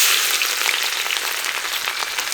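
Cumin seeds dropped into hot oil in a village kitchen, giving a dense, steady crackling sizzle that fills the short stretch with no speech.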